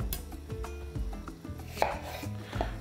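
A knife chops two small onions into very thin half-rings on a board, with quick, irregular close-up cuts and a few louder knocks, without any speech.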